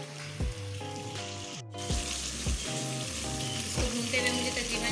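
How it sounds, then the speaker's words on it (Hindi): Chicken curry masala sautéed in a pan over medium-high flame: a steady bright sizzle and fry runs throughout, with stirring and scraping, under a faint musical background. "और अब इसकी भुनाई करेंगे तकरीबन 7 से 8 मिनट तक ही इसको हम भुनेंगे।"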